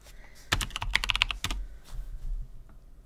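Rapid keystrokes clatter on a computer keyboard at close range, with a dense burst of clicks followed by a few more taps and some softer desk noise, with no speech.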